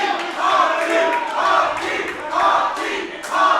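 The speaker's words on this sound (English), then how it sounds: "Again, the crowd firmly behind Hakeem right now" Wrestling crowd at a CEW Hot Pursuit show cheering for Hakeem Young, loud surging chants and yells rising and falling in waves across the hall.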